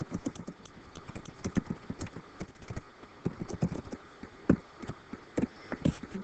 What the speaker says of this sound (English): I'm going to try typing them so it's neater for you.